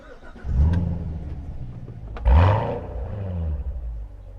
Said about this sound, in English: let's fire it up and see what it sounds like.